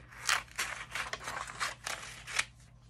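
Scissors cutting paper to size for a collage, a series of about eight crisp snipping strokes in quick irregular rhythm, close and alone.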